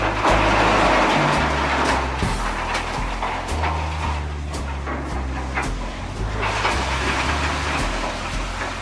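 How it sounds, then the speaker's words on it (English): A big truck being loaded with tons of shredded metal at a car wrecker's yard, with a steady low engine rumble and clattering, grinding noise running throughout at close range. "A big truck like this can take tons of shredded metal with every load"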